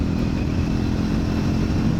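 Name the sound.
motorcycle passing on the road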